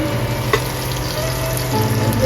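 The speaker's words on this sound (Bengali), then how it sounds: "আদা, রসুন, পেঁয়াজ ভালো করে ভেজে নেব।" Loud, continuous sizzling of ginger paste, garlic paste and onion frying in oil, close up, with a brief scrape of stirring partway through.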